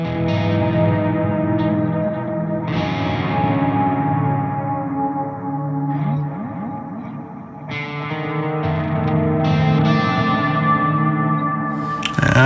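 Jackson Soloist SLX electric guitar in orange crackle played through its neck pickup with ambient effects, sustained distorted chords and notes washed in echo, chorus and reverb, steady and loud for the whole stretch with no talking.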